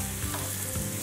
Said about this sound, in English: Whilst those tomatoes are happily sizzling away in the forno